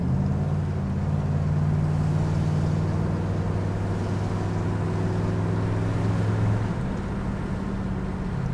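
A 1968 Chevrolet El Camino SS 396 with a TH400 transmission and 12-bolt rear cruises at about 60 mph, giving a steady, unbroken engine drone mixed with road and wind noise.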